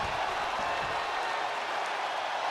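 Wrestling arena crowd in WWE 2K25 cheering and roaring in a steady, dense wash of applause and voices, loud and continuous throughout with no clear talk over it.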